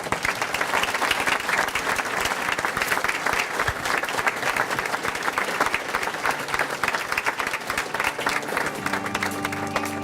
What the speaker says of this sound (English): Everybody join me for a final round of applause for all of our volunteers in the room tonight.